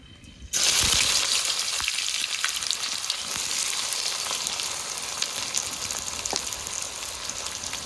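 Chopped onions drop into hot oil already holding a bay leaf, dried red chillies and whole cumin, setting off a sudden loud sizzle that settles into a steady, close frying hiss.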